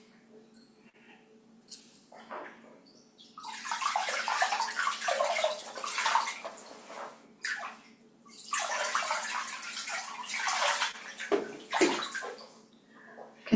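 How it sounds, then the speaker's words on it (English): Feet rinse in a basin of footsoak water, giving bursts of sloshing and splashing at close range that come in two long stretches separated by brief pauses, with no talking. "Let's rinse our feet."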